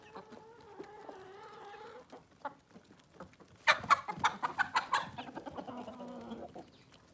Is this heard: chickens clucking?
yes